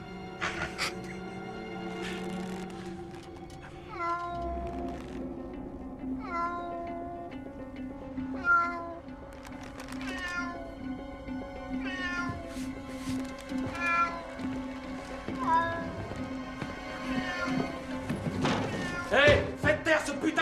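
A cat meowing repeatedly, a string of close, drawn-out cries coming every second or two over a sustained background tone, growing louder and more insistent toward the end.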